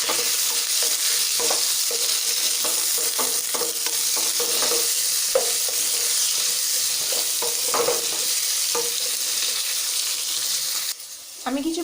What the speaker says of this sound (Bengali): হলুদটা মিশিয়ে দেবো